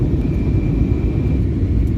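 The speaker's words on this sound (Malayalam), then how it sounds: "ഫ്ലൈറ്റ് ഇപ്പോൾ കുറേ കൂടി താന്നു തുടങ്ങി" Constant loud low engine roar filling an airplane cabin during descent on a flight to the Maldives, an even droning hum with a faint high whine above it.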